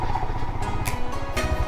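A motorcycle rides an unexplored off-road hill trail near Bengaluru, its engine running steadily and close, a continuous low throb with brief louder surges, no talking.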